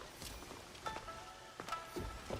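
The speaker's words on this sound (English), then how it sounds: "There's a light rain, so you know it's extra slippery." Light rain patters softly across surfaces in Assassin's Creed Shadows, a faint, even wash of drops with a few slightly louder taps and scuffs mixed in, no voices present.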